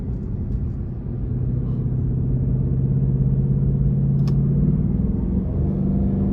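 Inside a 2023 Ford Mustang GT Premium with the 450 hp 5.0 V8 driving in normal mode, a steady low engine drone rises and falls gently as the transmission shifts smoothly, with no talk over it.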